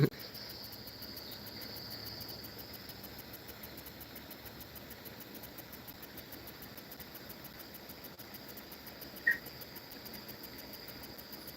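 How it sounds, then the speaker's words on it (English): Crickets chirp steadily outdoors at night, a constant high, even trill running throughout, with a low engine-like hum beneath and one brief click partway through. "It's so cool to hear the frogs and stuff too."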